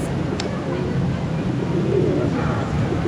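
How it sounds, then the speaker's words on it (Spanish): Pigeons coo softly in the 24 de Septiembre plaza in Bolivia, half buried in a steady wash of open-air city noise. "Nuestras amigas palomitas."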